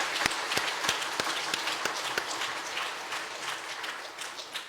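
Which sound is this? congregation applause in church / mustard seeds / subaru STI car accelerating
congregation applause in church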